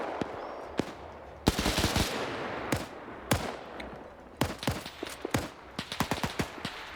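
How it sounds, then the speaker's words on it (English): WW2 video game gunfire: a mounted machine gun rattles in short bursts mixed with sharp single and double shots, loud and close, separated by brief quiet gaps. "We do have an MG on the corner."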